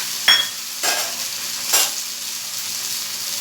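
Rava (semolina) uttapam frying in oil on a hot pan, a steady bright sizzle with three sharper bursts as it is turned and handled, and no voices.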